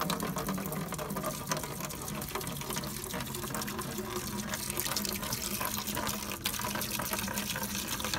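Twelve-year-old gasoline drains out of a 1989 Mitsubishi Montero abandoned for 12 years, making a steady, close pouring and trickling splash that runs without a break from start to finish.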